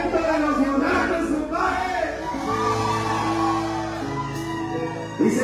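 A live crowd at a Latin band's night-club concert shouts and whoops loudly and continuously, a dense roar of voices with sustained yells rising over it.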